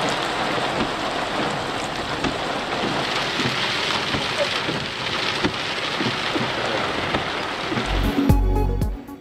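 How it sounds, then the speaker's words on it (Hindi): Steady heavy rain falls in Karachi, a dense hissing wash with scattered drops and a few low rumbles, continuous throughout before a brief different noise at the end. "कराची के मुज़फ़्फ़राती इलाकों में कहीं हल्की कहीं तेज बारिश"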